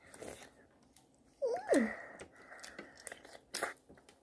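Someone bites into and chews honeycomb filled with honey. Close, quiet mouth sounds come in short bursts: moist crunches and chewing separated by brief pauses.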